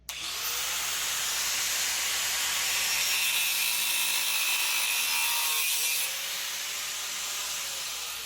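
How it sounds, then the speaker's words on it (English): A thin metal cutting blade slices through bushings held sideways in a vise, giving a continuous high, harsh whining grind for several seconds that eases slightly near the end, with no talking. "I'm just going to cut them with this. This is just a thin metal cutting blade."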